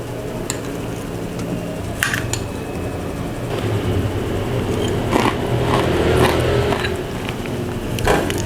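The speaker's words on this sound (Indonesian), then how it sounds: "Kita mau tes kriuk ya sahabatku." Crunchy fried anchovies with peanuts bitten and chewed close up, a series of sharp crisp crunches over a steady low kitchen hum, with faint clinks of dishes.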